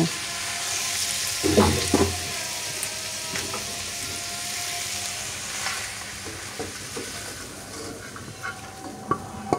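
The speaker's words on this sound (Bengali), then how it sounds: "এখন আমি এই চিকেন আগে থেকে কষানো মশলার মধ্যে ঢেলে দিব।" Chicken is tipped into a pan of cooked-down spice masala for dhaba-style chicken, with a continuous close sizzle and a few scraping stirs and thumps early on.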